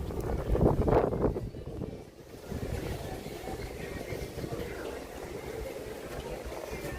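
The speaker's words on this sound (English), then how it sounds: "Oh dear, it's very windy." Wind buffets a microphone outdoors at EPCOT, a rough low rumble that is strongest in a burst at the start and then continues steadily at a lower level.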